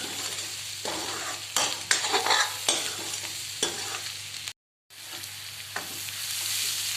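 Spices being stirred into an onion and green chilli sabzi in a pan make a steady sizzle broken by scraping spoon strokes. A short silent gap falls near the end before the frying resumes.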